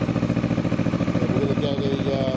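A 2020 Kawasaki Vulcan S motorcycle with a new budget aftermarket exhaust runs after a cold start, its engine loud, close and steady with a rapid, even idle pulse throughout.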